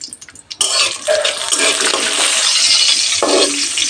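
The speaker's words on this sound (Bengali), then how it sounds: "এখানে 30টা মতো কাজু হাফ করে কেটে রেখেছি, অ্যাড করে ভেজে নেব।" About thirty halved cashews fry on low heat in a pan for Bengali basanti pulao, giving a steady, close sizzling hiss that starts abruptly and continues with faint stirring.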